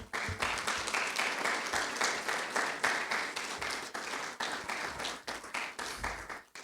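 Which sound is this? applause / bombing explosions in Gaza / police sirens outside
applause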